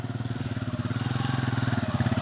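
A motorcycle engine running close by, its pulsing low putter steady and rhythmic, rising slightly in loudness and pace as it revs up, with no talk over it.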